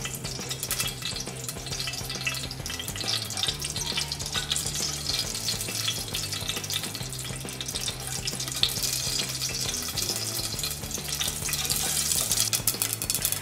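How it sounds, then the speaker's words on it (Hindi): Mustard seeds crackle and sizzle in hot ghee in a pan, a steady close hiss dotted with rapid popping that continues throughout, with no talking. "राई हमारी अच्छे से क्रैकल हो रही है"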